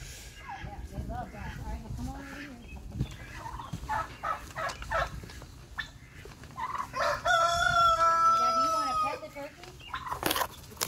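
A rooster crows loudly and close, its long strained call rising over scattered clucking and turkey gobbling, with people talking nearby.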